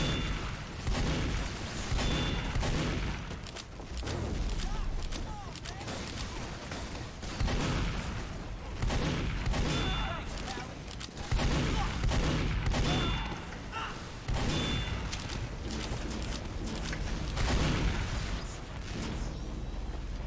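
Sustained gunfire and booming blasts from Team Fortress, dense and continuous for about twenty seconds, loud and close with repeated bursts and heavy low rumble throughout.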